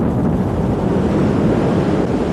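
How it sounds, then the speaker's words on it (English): Strong wind and ocean surf pound the shore during Hurricane Hugo, a loud, continuous roar of crashing waves and gusts filling the clip with no voices. "But the wind and the waves crashing in already are a signal Hugo may be bringing more than those here can outlast."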